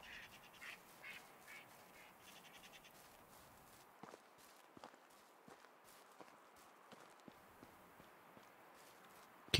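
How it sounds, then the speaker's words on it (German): Ducks quack faintly in the video game Medieval Dynasty, soft repeated calls over a low ambient bed with scattered footstep-like clicks and no talking. "Enten?"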